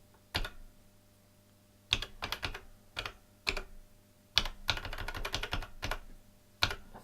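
Zeros are typed on a Siemens PC 100 computer keyboard: crisp, close keystrokes come singly and in quick bursts, with pauses between them in a quiet room.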